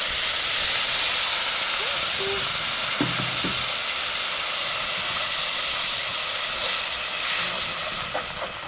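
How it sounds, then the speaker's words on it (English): Blended tomato paste with garlic bubbles and sizzles in a pot, a steady hissing simmer with occasional stirring clinks, fading slightly toward the end. "So I'll let the paste to cook or to simmer a bit"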